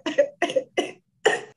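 A woman coughs while laughing, four short dry coughs in quick succession, close and alone, with a brief pause before the last.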